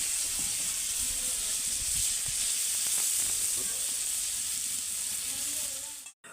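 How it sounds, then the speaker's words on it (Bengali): Paneer frying in a pan gives off a steady, close hiss of sizzling oil with faint crackles throughout, ending in a sudden brief cut near the close. "আমরা পনিরটা ভেজে নেব"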